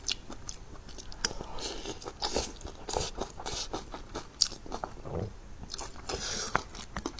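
Crunchy spicy pickled cabbage being eaten, with repeated crisp bites and close, wet chewing in a steady irregular rhythm at low volume, with no talking.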